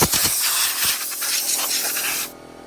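Compressed air blows out a subwoofer basket being prepared for reconing, loud close hissing bursts that sputter at first, then run as a steady spray before cutting off abruptly near the end.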